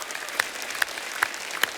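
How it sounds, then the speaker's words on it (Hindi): A studio audience at The Kapil Sharma Show applauds for the Gangs of Wasseypur cast, a continuous bed of clapping with four louder, regularly spaced claps standing out. "जोरदार तालियां।"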